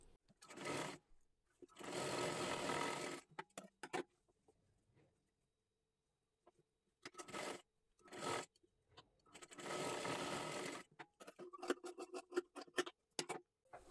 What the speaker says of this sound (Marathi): हे पहा, अशी शिलाई मारून घ्यायची आहे खालीपर्यंत